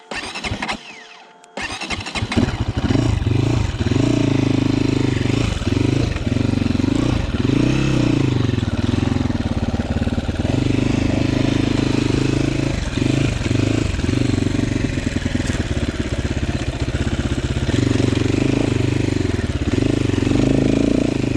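A GPX Moto FSE300R enduro motorcycle on tight wooded single track. After a brief dip the engine catches and runs loud and close, revving and labouring in uneven surges for about twenty seconds.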